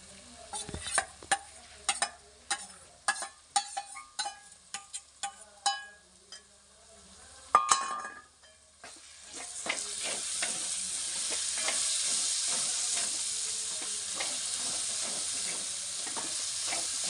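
Bitter gourd with chickpeas and masala in a pan: a spoon first knocks and scrapes in a run of sharp close taps, then a loud, steady frying sizzle hisses continuously to the end.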